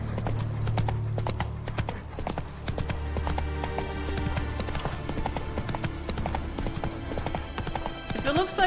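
Roach the horse gallops in The Witcher 3 video game, hooves clip-clopping in a steady, fast rhythm throughout, with a person talking over it.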